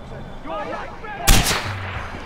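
A sniper rifle shot in a combat video game, a single sharp loud crack with a short rumbling tail, preceded by quieter gunfire and game noise.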